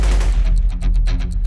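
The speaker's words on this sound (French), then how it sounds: "puis tire une dizaine de coups de feu sur la porte de sécurité des guichets" A rapid burst of about ten gunshots fired at a bank's security door in the 1997 Hollywood shootout, sharp reports following one another in quick succession, loud and close, with no talk.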